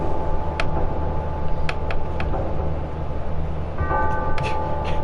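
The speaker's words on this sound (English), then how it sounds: "Can you tell Quasimodo to quit ringing that damn bell?" A bell rings in the video game Final Fantasy 7 at Nibelheim, several sharp metallic strikes over a droning, sustained background, with a cluster of chimes near the end and no speech.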